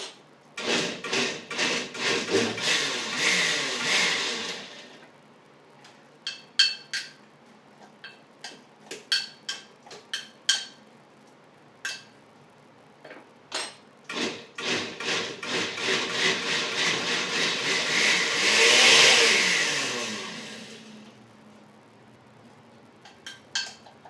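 A kimchi mixture stirred in a bowl gives bursts of wet scraping and rubbing strokes, some rapid and rhythmic, some single, with pauses between bursts.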